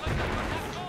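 Mortar fire in the World War II strategy game Company of Heroes: a short, dense burst of explosive noise that fills the moment, with a voice talking over it.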